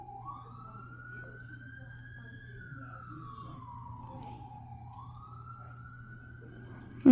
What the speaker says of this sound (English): I think here's the fire truck.